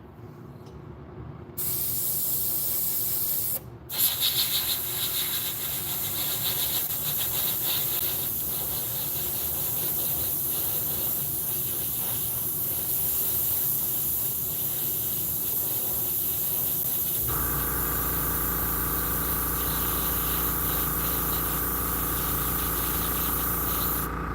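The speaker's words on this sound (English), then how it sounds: "And now I can get the little small squiggles. This airbrush can do" Airbrush spraying paint on a figure, a steady close hiss running almost continuously with a couple of brief cutoffs early on and a shift in tone partway through, no voices heard.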